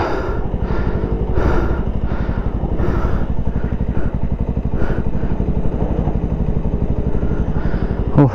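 A motorcycle labors in first gear on a rough, steep shortcut cliff road, its engine thumping loud and close with a steady rapid pulse, the wheel spinning without gaining ground.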